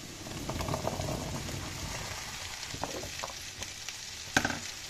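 Potatoes and onions frying in oil hiss and crackle steadily up close, with a few soft stirring knocks and one sharp clack of a utensil near the end.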